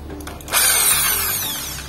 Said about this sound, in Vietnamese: Nhưng mà mũi này thì khoan khá là ok rồi. Đấy, khoan sắt rồi.